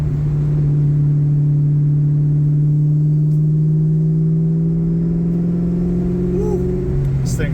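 A 2004 Mustang SVT Cobra engine hums steadily while driving, a loud low drone that rises slowly in pitch as it accelerates, heard from inside the car.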